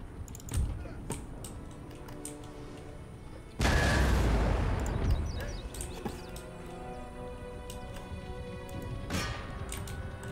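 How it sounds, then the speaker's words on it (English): Artillery fire in the video game Empire: Total War, with a loud boom followed by a rumbling wash, scattered distant gunshots before and after, and a low battlefield din throughout. "Try carcass shot, see what that does."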